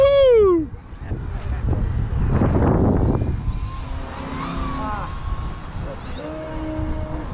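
Buzzing RC model airplane engines scream at full throttle during a combat flying event, pitches swooping up and down as the planes pass near and far, with a loud shout early on.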